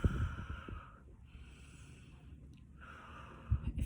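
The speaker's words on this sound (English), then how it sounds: "we're just going to start by taking a few deep breaths so that we can feel relaxed" A person breathes out deeply and slowly during a relaxation breathing exercise, two soft, airy exhales spaced a couple of seconds apart, close and quiet.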